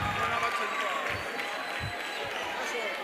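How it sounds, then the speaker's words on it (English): Applause from an audience at a youth empowerment week event in Vaal, a steady broadband patter lasting a few seconds with voices mixed in. "Let's give him a round of applause."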